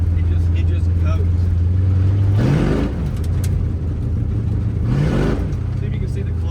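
A light Dodge Dart with a V8 and four-speed manual accelerating hard at a drag race, loud engine roar climbing through the revs, dropping at a gear change, then climbing again, heard close with muffled voices.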